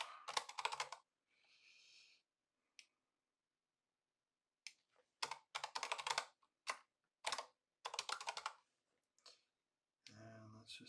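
Fingers clatter on a computer keyboard in several quick bursts of close, crisp keystrokes separated by silent gaps, ending with a brief spoken word.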